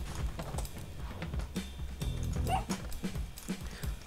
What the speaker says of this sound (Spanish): El perro realmente no veo por qué no salvarlo.